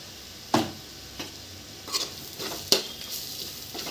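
A spoon stirs chili powder, salt and coriander powder into a mushroom fry in a pan, a few scraping strokes and clinks against the metal over a soft sizzle.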